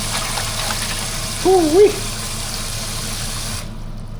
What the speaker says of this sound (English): Got my kitchen sink plumbed out, running water.